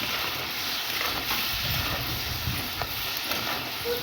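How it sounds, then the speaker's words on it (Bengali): Food fries in a kadai while being stirred, with a soft, continuous sizzle and hiss and faint scraping as the spatula turns it, close and steady with no talk. "এবার আমরা কড়াইয়ের মধ্যে দিয়ে দেবো। ভালো করে নেড়ে নেড়ে নেব।"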